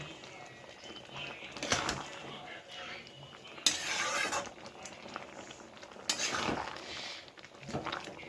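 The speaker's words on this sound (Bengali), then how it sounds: "গরম মশলা দিয়ে দিচ্ছি। এবার নেড়ে ঢেকে রাখবো।" A spoon stirs soybean curry with garam masala in a pot before the lid goes on, giving a few sharp metallic scrapes and clanks over a low, quiet kitchen background.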